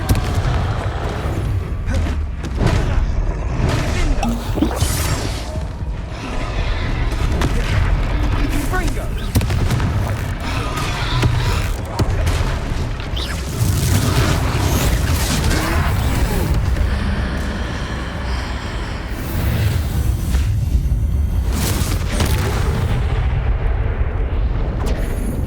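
Confringo fire-spell blasts in Hogwarts Legacy, heavy booming explosions and rumbling bursts rolling almost continuously through loud, dense game battle noise.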